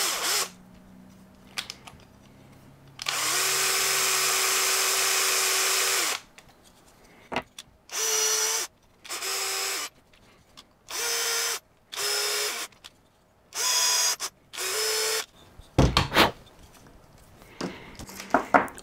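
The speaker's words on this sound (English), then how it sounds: "Next thing, we put some threads inside." Power drill tapping threads into parts for a Mantis robot arm gripper, one long steady whir followed by a series of short bursts with brief pauses, close and loud.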